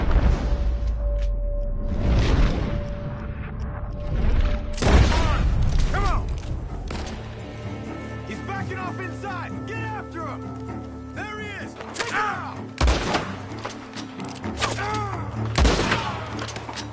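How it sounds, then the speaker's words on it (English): Gunfire and heavy booms in Red Dead Redemption 2, scattered loud shots and thumps mixed with game music and voices talking throughout. "The gunshots are coming from the..."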